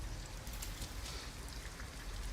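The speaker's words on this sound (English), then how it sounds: "At least we'd be out of the rain." Steady rain in the video game Detroit: Become Human patters continuously across the whole stretch, a dense wash of droplets with no voices over it.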